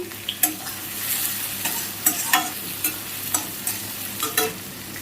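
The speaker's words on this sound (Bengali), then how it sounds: "এর মধ্যে আমি পেঁয়াজ কেটে রেখেছি দিয়ে দিচ্ছি।" Chopped onions fry in oil over a low flame while being stirred for bhetki chilli fish, with a soft steady sizzle punctuated by repeated scraping clinks of the utensil against the pan, and no talking.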